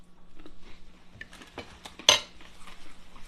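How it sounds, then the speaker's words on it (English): Croutons for a crispy chicken salad rattle and tumble in a salad bowl. Light scattered clicks lead up to one sharp, close clink, then quieter shuffling. No one speaks. "Our croutons are making a lot of noise."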